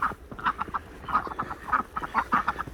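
Ducklings on a snowy farm making a quick run of soft, rhythmic quacks and peeps at a modest level, fairly close by.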